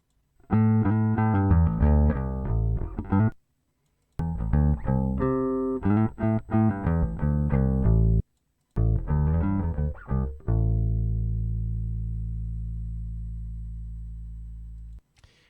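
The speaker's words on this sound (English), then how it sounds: "Let's go ahead and listen to the bass line here, back to back." A bass guitar fitted with a brass nut plays a plucked bass line in two short phrases separated by brief pauses, then lets a final deep note ring and slowly decay, with no talking.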